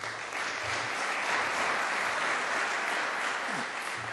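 Steady, dense audience applause in a lecture hall, many hands clapping at an even level throughout with no voices over it.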